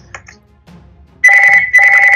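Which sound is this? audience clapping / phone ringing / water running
phone ringing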